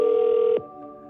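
A single steady electronic telephone tone sounds loud and clear during a real estate cold call, holding for about half a second before cutting off to a faint low hum.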